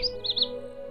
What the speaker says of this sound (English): animated bird.